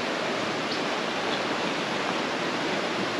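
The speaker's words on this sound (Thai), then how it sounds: "นี่นะครับบ้านติดลำธารน้ำแบบนี้เลย" Stream water rushing past a house set beside a rocky creek in a rural orchard area, a dense, continuous close wash of flowing water with no voices.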